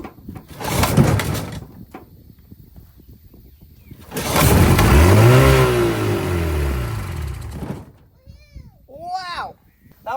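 A small engine, just fitted with a freshly cleaned carburetor and primed with starter fluid, roars at full throttle for several seconds, loud and close, then cuts out; a voice speaks briefly before it fires up.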